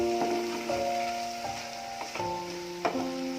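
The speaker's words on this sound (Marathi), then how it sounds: "आता आपण हे चिरलेले केळफूल टाकू। हे आता आपण चांगले परतून घेऊ" Chopped banana flower sautéed in a pan, a steady close sizzle with soft scraping stir strokes and a few light ticks of the spatula against the pan, with no voices over it.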